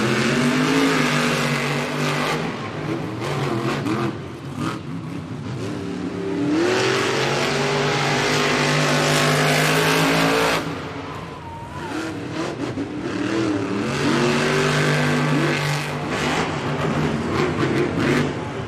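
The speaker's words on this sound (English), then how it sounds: "yellow lights means our drivers need to fire their engines, heads to the starting line" Monster truck engines roar and rev at the starting line of a stadium Monster Jam event in Nashville, loud and continuous with repeated surging revs and crowd din beneath.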